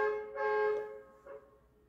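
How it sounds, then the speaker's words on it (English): A car horn on a street in Venice honks twice, a longer blast followed by a shorter toot, heard at moderate distance over low background noise. "The car had to honk in my video."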